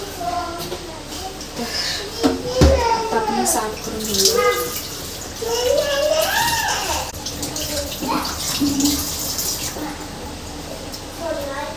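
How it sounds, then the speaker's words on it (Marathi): Tap water runs steadily while pieces of surmai fish are washed, with splashing and handling noises in a kitchen as voices talk over the flow. "आता आपली इथे सर्व मासे व्यवस्थित धुवून धुवून असे झालेले आहेत"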